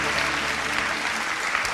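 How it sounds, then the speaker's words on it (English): Crowd of guests at an AI summit applauding themselves: a dense, continuous wash of clapping, steady and fairly loud throughout, with some voices mixed in underneath. "Give yourselves a big round of applause."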